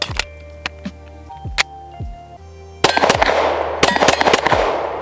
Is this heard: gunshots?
yes